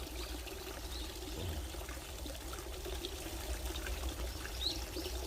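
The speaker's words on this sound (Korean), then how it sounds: "만드는 인공 폭포지만" Soft, continuous trickle of water spilling down an artificial waterfall, fairly distant and low, with faint outdoor ambience.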